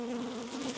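Carniolan honey bees buzz steadily at an apiary hive during a mid-winter inspection, a close, continuous drone with no voices.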